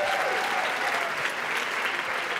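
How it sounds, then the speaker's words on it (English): Dense, steady applause from an audience at a staff achievement awards ceremony, many hands clapping together at close range and holding an even level for the whole stretch with no voices over it. "Give them a round of applause, ladies and gentlemen."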